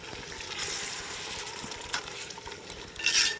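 Four medium cut tomatoes stew into lamb in a potjie pot for a spicy Indian-style potjiekos, giving a soft, steady sizzle with faint stirring scrapes and a brief clink of metal near the end.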